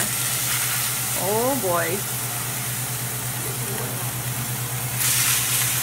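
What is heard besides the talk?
searing sirloin steaks in a hot pan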